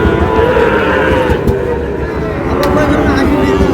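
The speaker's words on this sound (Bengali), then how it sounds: "শাহিওয়াল ষাঁড় বাচ্চা" A Sahiwal bull calf moos at a busy cattle market in Dinajpur, its low call rising over steady crowd noise and people talking.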